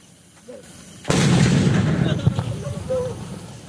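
A Barrett pyro firework ignites after a quiet moment and then bursts with a sudden loud crackling roar that keeps going for a couple of seconds with sharp pops, while faint voices talk around it.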